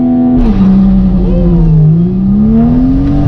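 A tuned stage 2 BMW 335i with N55 engine and DCT gearbox accelerates hard at full throttle, a loud, steady engine drone climbing in pitch with a brief dip at a gear change, recorded close from inside the car.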